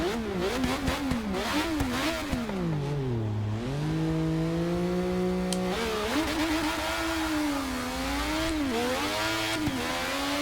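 Ayrton Senna's McLaren Honda MP4/4 Formula One car in the racing game Forza Motorsport 6, its engine revving loudly and continuously, pitch climbing and dropping through upshifts and downshifts as it accelerates and brakes, with no talk.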